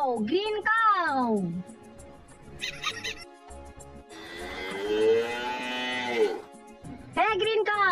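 Cow mooing in a children's colors song, several drawn-out falling calls and moos, close and clear, with bursts of other voices and sounds in between.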